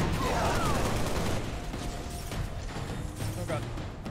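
Sustained gunfire from a firefight in Halo: Reach on Legendary, a dense, loud barrage of shots with mechanical clatter running through the whole stretch, easing slightly partway.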